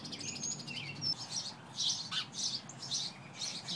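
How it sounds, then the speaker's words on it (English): Small birds chirp in quick, repeated high-pitched bursts against quiet outdoor background noise, fairly faint and evenly spaced. "We have many kinds of birds in the neighborhood, Libby."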